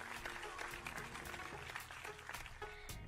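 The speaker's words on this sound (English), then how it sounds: "Suddenly the crowd begins to cheer." A crowd at an evening riddle contest breaks into cheering and clapping, a busy wash of applause and raised voices with sharp claps throughout, moderately loud.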